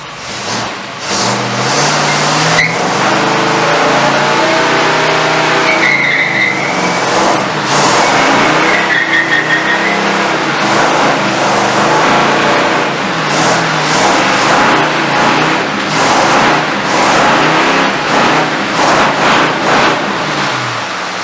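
A 1954 Fargo truck, fitted with a new driveshaft, roars through a sustained burnout: a loud, continuous engine rev with squealing, screeching tyres, close to the microphone, with no voices.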